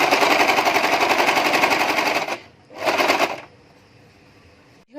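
A sewing machine runs in a long steady burst while stitching a nighty, stops briefly, whirs again for a short stretch, then falls quiet before a small click at the end.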